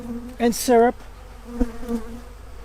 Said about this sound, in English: as for the foragers you see buzzing around me, they'll just fly back to their own hive